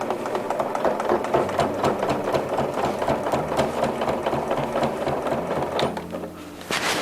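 A sewing machine runs continuously, stitching a 5 mm topstitch seam on a quilted hooded jacket with a steady, rapid mechanical rhythm, close and loud, pausing briefly near the end.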